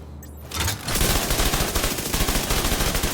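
Rapid SMG gunfire at the shooting range in the video game The Division 2, a loud sustained automatic burst after a brief quiet reload moment.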